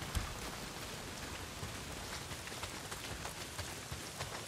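Steady rain pours down in the Days Gone video game world, a dense, even patter of drops on surfaces that continues without a break and stays at a moderate distance.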